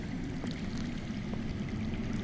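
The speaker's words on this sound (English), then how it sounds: "I hear water. From underground." Underground water in a Game of Thrones video game scene runs in a steady, broad rushing stream, constant and even in level with no other sounds standing out.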